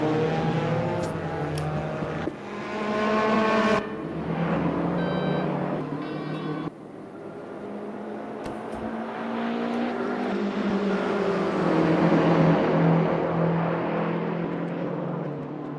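Race cars in an endurance series race at Spa roar along continuously, engines rising and falling with gear changes as cars close in and pass at loud, near range.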